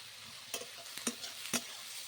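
Onion, garlic cloves and chopped ginger frying in a pan for restaurant-style butter chicken, a steady sizzle broken by three sharp spoon scrapes and stirs, close and alone with no voices.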